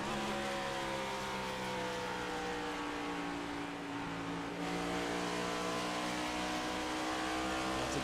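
Several ARCS race cars running at speed at Nashville, a steady layered engine roar with multiple pitches rising together, a brief dip midway as cars pass, continuing loud and sustained.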